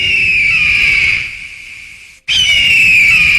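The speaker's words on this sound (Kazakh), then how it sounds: "басқадай бүркіттің дауысы шығады." An eagle's screech played back through a speaker: a loud, shrill, sustained cry that fades, breaks off for a moment, then resumes at full strength.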